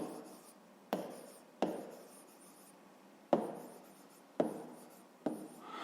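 Pen or pencil on paper writing out a fifth-grade math exercise, a quiet series of scratchy strokes, each starting with a sharp tap and trailing off, spaced irregularly about a second apart.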